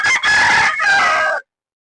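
One loud, close rooster crow on a farm, a brief rising opening followed by a sustained call that ends sharply into silence.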